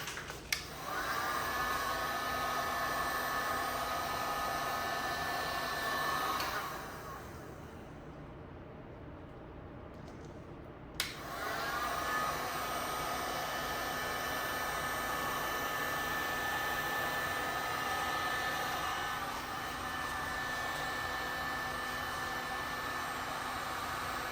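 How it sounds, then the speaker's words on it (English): A heat gun blows steadily while heating vinyl wrap on a Tesla rear bumper, a loud close whooshing hiss that cuts out for a few seconds midway and then resumes. "As always, I'm going to hit it with some heat."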